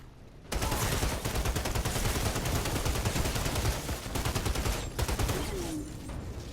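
An SMG fires in the shooter game Outriders in dense, rapid bursts of loud, close gunfire. The shots rattle almost continuously after a brief quiet start, with a short pause near the end.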